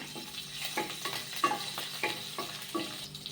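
Green chillies and a handful of curry leaves frying and being stirred in hot oil, giving a steady low sizzle broken by repeated scraping strokes of a spoon at an even rhythm, close and fairly quiet.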